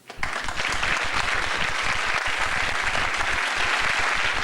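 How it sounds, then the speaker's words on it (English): A television studio audience at a 1987 comedy show breaks into applause, a sudden, full burst of many hands clapping that stays dense and even until the end. "all I have to do to elicit a sympathetic round of applause is to shake my head in horror"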